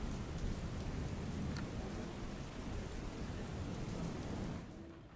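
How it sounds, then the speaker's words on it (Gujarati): Steady, dense rainfall pours down on Mandvi, Kutch, without a break, a broad hiss over a low rumble, easing slightly at the very end. "અત્યારે અવિરત વરસાદ વરસી રહ્યો છે"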